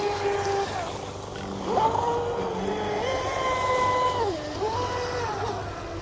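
A TP Power 4050 electric motor in a fast RC boat whines steadily, rising and falling in pitch as the throttle changes, heard continuously at moderate distance with water-cooling and a smaller prop.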